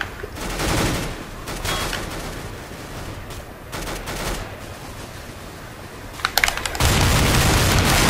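Shotgun fire in Counter-Strike: Global Offensive Arms Race mode, with a series of loud, close bursts rising and falling across the clip and a heavier volley building near the end.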